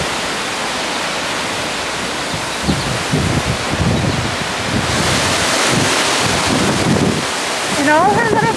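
Strong wind roars across the microphone in gusts in a backyard, rumbling and hissing continuously, with a brief voice-like sound near the end.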